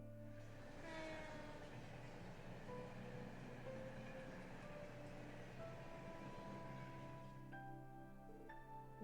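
A train rolls past at night in the Trails from Zero video game, a steady loud rumble with tonal horn-like hums running throughout, thinning out near the end with no talk over it.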